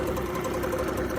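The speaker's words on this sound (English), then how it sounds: "Alright, I'm gonna start this thing up." A small outboard boat motor idles steadily right after starting, a continuous mid-pitched drone with a faint knocking vibration, close and even in level, with no talk over it.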